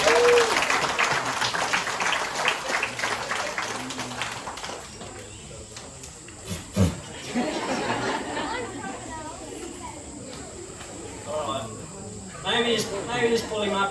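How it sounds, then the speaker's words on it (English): Audience clapping at a crocodile show, a burst of applause mixed with crowd chatter and a presenter's voice, fading into talk and outdoor murmur after a few seconds. "Guys, give Nick a round of applause."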